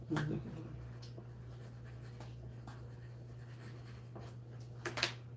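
A pencil scratches on paper in soft, irregular strokes over a steady low hum, with faint brief voice sounds at the start and near the end, during a live cooking show making sweet potato flatbread.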